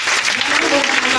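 Church audience applauding at an Easter 2021 service, a dense, steady wash of clapping that stays loud and even throughout with no pauses.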